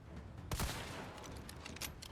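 Weapon fire from a Capcom video game with a knife, handgun, shotgun, sniper rifle and submachine gun: one sharp loud shot with a booming tail, then scattered fainter cracks and impacts over steady background game noise.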